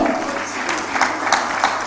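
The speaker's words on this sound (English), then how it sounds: "Please, let's put our hands together for her." An audience applauds the board chair of ActionAid Nigeria at a project closeout event, a steady dense wash of clapping from a crowd that holds throughout at moderate loudness.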